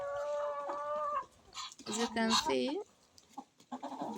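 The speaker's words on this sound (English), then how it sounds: "the chicken are eating the maize quite well, but the ducks are struggling" Farm chickens cluck and squawk while eating maize, close and loud, with a person talking over the start.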